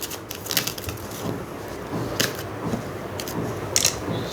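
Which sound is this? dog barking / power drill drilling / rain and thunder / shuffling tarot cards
shuffling tarot cards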